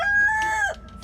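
Rooster crowing at an animal sanctuary: one loud, close crow with a held middle note and a falling end, followed by brief faint clucking.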